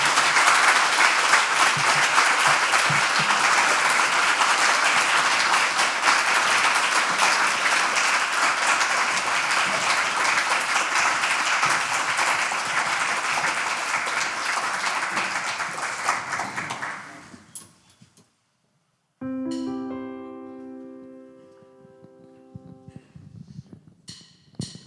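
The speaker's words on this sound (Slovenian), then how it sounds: "In en lep aplavz za njih." A concert audience at a charity Christmas festival claps in a long, dense burst of applause that goes on for about eighteen seconds and fades out, then choral singing with accompaniment begins.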